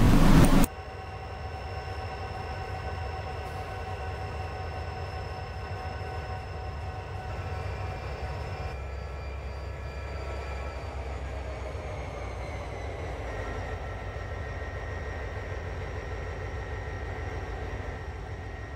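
Locomotives pull slowly into a station, a steady rolling rumble with sustained tonal whine running unbroken and fairly quiet after a brief louder burst at the start, with no voices.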